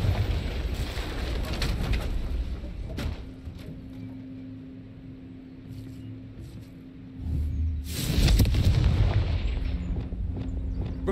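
Confringo fire spell blasts in Hogwarts Legacy, two heavy booming explosions with rumbling low-end roar, separated by a quieter stretch of humming ambience.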